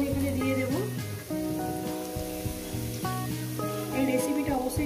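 Green chili and chopped onion sizzle steadily in hot oil in a pan, a constant crackling hiss under background music.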